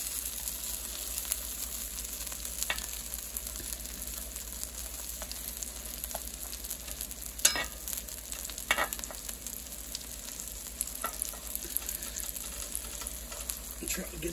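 A burrito sears in butter in a skillet over low heat, giving a steady soft sizzle throughout with a few faint clicks and scrapes, no talking.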